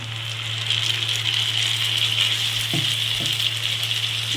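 Ridge gourd paste hitting hot oil with browned fried onions in a pan, a loud steady sizzle with a strong bright hiss, broken near the end by two brief stirring scrapes.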